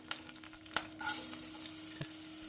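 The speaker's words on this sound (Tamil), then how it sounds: "நன்றாக பொரியவும் நாம் நறுக்கிய வெங்காயம் பூண்டை சேர்த்து விடலாம்." Chopped onion and garlic sizzling and frying in a pan with curry leaves, a steady hiss with a few stirring clatters, close and alone without talk.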